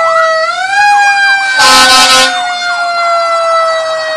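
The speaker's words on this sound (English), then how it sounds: "this could be the fire department on its way" Douglasville Fire Department fire truck rolling in a Fourth of July parade, its siren wailing loud and close, with a short blast of air horn cutting through midway.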